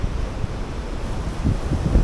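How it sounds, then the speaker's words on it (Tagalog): Strong ocean waves break on the Ilocos Sur shore, making a continuous broadband rush with wind buffeting the microphone. The swells build slightly louder toward the end. "ang lalakas ng alon mga tolits"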